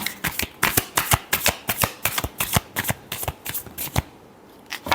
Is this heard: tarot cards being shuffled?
yes